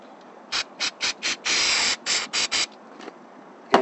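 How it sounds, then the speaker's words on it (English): Short bursts of aerosol spray hissing close by while cleaning a Suzuki four-stroke outboard engine, several quick puffs and one longer blast, with pauses between them. "Basically, you just spray it."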